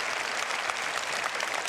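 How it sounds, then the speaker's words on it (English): Audience applause for the developers at the CitizenCon event for Star Citizen and Squadron 42, a dense, steady wash of clapping that fills the room without pause. "So please, a round of applause for the developers."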